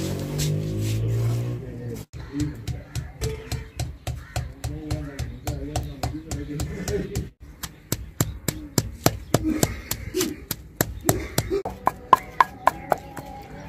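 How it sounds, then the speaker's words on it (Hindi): Mint leaves, already chopped fine, being pounded in a village kitchen: a long run of steady, sharp close strikes, quick and regular, continuing throughout with brief pauses, with a low hum underneath. "अब हम पुदीने को कूट लेंगे।"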